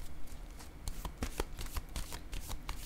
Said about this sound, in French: je vais piger une autre carte sur les enfants